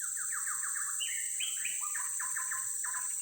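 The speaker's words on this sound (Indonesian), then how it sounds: "cantik sekali suara burungnya." Several small birds chirp and sing outdoors in a repeated series of bright, clear phrases, close by and fairly loud over a steady high background hiss, with no talking.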